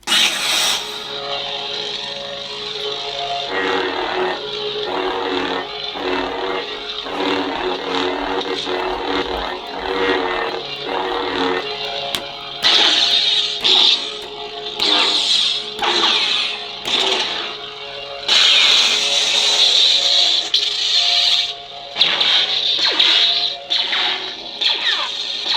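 A lightsaber sound font themed on Star Wars pod racing plays: ignition, then a humming, engine-like drone with repeated swings and clashes that surge and drop, heard alone without talk.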